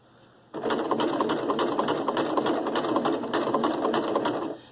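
A sewing machine runs steadily as it stitches a coiled rope bowl, a continuous close whir with rapid needle clatter that starts abruptly and holds for several seconds.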